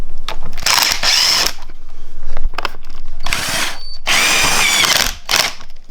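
A power drill unscrews a screw during a side skirt install on a 2011 Subaru STI hatchback, running in about five loud, close bursts of whirring with short pauses between.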